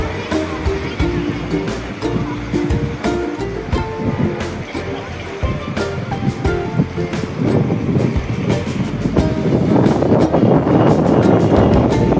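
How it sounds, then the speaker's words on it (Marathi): Rough sea waves crash and surge with strong wind buffeting the microphone, loud and close, growing heavier toward the end, with people talking over it. "किती भयंकर पाणी आहे, किती जोर आहेत पाण्यात."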